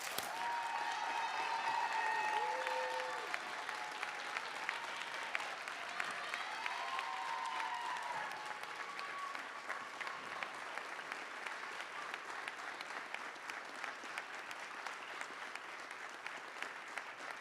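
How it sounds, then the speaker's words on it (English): Applause at a regular mayor and council meeting, as the room honors a resident's achievements; moderate clapping that starts full and gradually thins into scattered, crisp individual claps. "Give him a huge round of applause."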